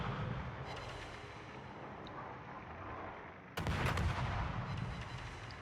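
Warship guns boom at the Italian cruiser Napoli in a naval video game: a rumbling backdrop of distant gunfire, then a sudden loud, close salvo that lingers with heavy low rumble.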